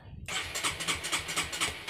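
A Honda CB150R motorcycle's electric starter cranks abruptly and keeps churning in a steady, rapid rhythmic whir, loud and close.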